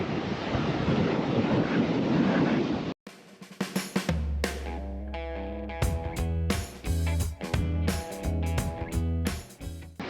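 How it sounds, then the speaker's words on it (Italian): Strong wind at a beach in the Canary Islands roars against the microphone for about three seconds, then stops abruptly and gives way to unrelated sharp, tonal sounds. "è abbastanza tosto questo vento e l'aria è decisamente freschina oggi"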